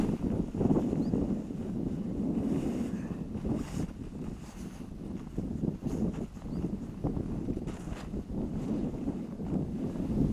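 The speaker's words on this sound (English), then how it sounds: "Days like this, it is a little bit windy" Steady wind roars and buffets the microphone on a hillside at a bivy camp near Loweswater, a continuous low rumble with gusty swells and no voices.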